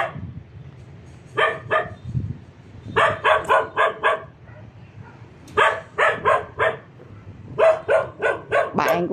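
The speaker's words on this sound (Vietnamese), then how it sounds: "Chó sủa ban đêm thì nghe đã rất là ghê rồi." A dog barks at night from atop a grave in a cemetery, sounding out in several quick bursts of three to five sharp, loud barks, separated by short pauses over a low background hum.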